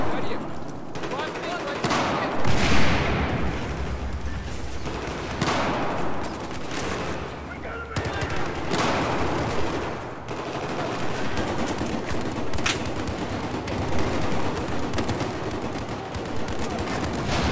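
Battlefield 4 gunfire on the Operation Metro map: repeated bursts of rapid rifle and machine-gun shots with booming impacts, loud and continuous for the whole stretch.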